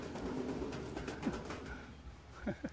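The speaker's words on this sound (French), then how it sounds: "C'est les pigeons." Pigeons coo softly by a man-made lake in Thailand, a few short throaty calls against a low outdoor rumble.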